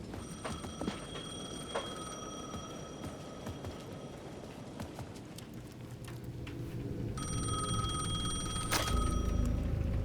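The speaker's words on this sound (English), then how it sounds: "The payphone at the edge of the plaza was ringing again." A payphone at the edge of a plaza rings in the Alan Wake 2 video game, with bursts of electronic bell tones near the start and again toward the end over a steady, dark ambient rumble.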